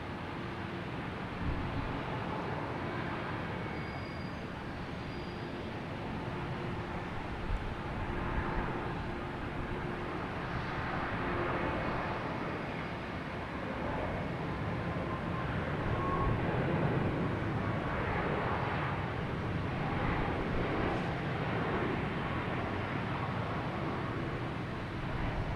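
A United airliner takes off at Boston Logan Airport, a steady broadband engine roar that holds for the whole stretch and swells slightly louder near the end, with no talk over it.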